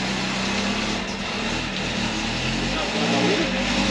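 A Jeep Willys engine with its standard exhaust revs loudly and steadily up close, a continuous rough drone with slight swells in pitch as the throttle opens.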